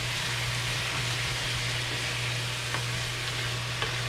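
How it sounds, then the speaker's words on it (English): Marsala wine deglazing a hot pan after searing pork tenderloin, giving a steady bubbling sizzle with a low hum underneath and a few faint clicks and pops toward the end. "I'm going to hit that with some marsala. That'll break loose all the flavors that are on the bottom of the pan."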